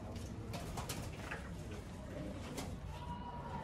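Racing pigeons in a loft give soft, continuous cooing and murmuring close by, with a steady background hum and occasional light rustles throughout.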